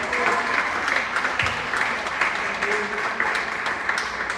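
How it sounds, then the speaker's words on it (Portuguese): A church congregation applauds steadily throughout, a dense, sustained wash of many hands clapping that fills the space evenly from start to finish, with no clear voice standing out. "Você pode aplaudir ao Senhor essa noite."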